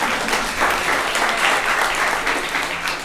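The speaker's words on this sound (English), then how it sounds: "give yourselves a round of applause" An audience claps together at a medical group's ten-year anniversary event, a dense, loud round of applause that holds steady for the whole stretch.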